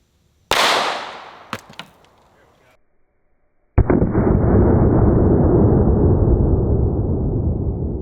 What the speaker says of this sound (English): we're gonna shoot the 9mm again